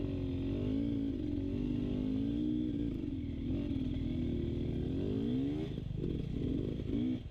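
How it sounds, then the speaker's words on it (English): KTM dirt bikes, a 350 and a 250 two-stroke, ridden on enduro single track near caves in Dinamarca, Colombia; a steady, loud engine drone rises and falls with throttle changes throughout, with no talk. "He's on his KTM 250 two-stroke."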